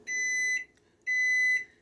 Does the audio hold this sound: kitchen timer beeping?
yes